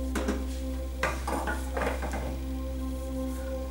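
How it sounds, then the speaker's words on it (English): A spatula scrapes spices off a bowl and its lid while making vegetable curry, several short scraping strokes over a steady background hum, close and moderate, with no talking. "just use the spatula and scrape that down"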